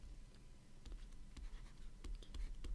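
Pen or marker scratching out a division problem, 12 divided by 4, in short quiet strokes, several separate scrawls close by with no talking.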